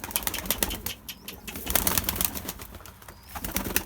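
Homing pigeons released outdoors flap their wings in quick, irregular bursts of fluttering, close by and fairly loud, with faint cooing in between.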